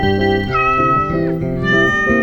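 A kitten's meow sung into a Tamil children's song, a bright, clear sustained cry with pitch bends over a musical backing, loud and close with no talking.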